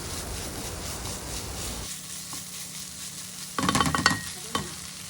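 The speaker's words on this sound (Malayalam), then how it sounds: "ഇത് ചേർത്തിട്ട് ചെറുതായിട്ടൊന്ന് വഴറ്റി കൊടുക്കുക" Shredded chicken being sautéed in a pan for a chicken pola snack, a steady close frying hiss with soft stirring and brief scraping clatters toward the end.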